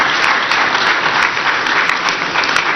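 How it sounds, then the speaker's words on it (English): A media-conference audience applauds His Excellency, a dense, loud and steady wash of clapping that continues without a break from start to finish. "another round of applause for His Excellency"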